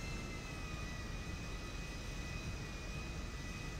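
A passenger jet in the FiveM Transport Tycoon game takes off, its engines holding a steady, loud roar with a thin whine running through it and no talking.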